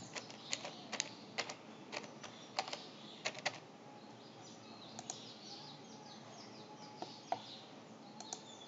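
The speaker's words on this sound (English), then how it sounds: "we'll type the password again" Quiet clicks of someone typing a password on a computer keyboard, in short irregular bursts of keystrokes separated by pauses, close and faint.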